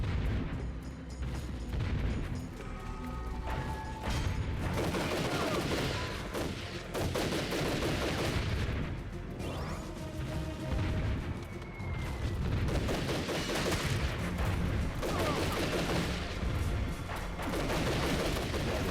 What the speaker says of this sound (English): Cannons have stopped.